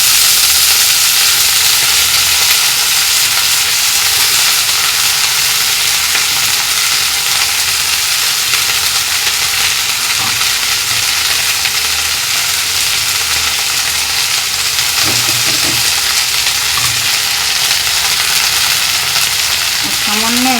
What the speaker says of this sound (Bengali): তো একটু লাল লাল করে ভাজা হোক, শাকটা দিয়ে দেবো।